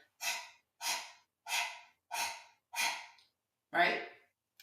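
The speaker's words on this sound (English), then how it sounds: "people like to breathe out of their mouth. You can think of it almost like a dog panting" Six sharp, rhythmic exhalations through the mouth, like a dog panting, during a solar plexus yoga breathing exercise, each breath a short forceful rush of air with brief pauses between, close and clear without speech.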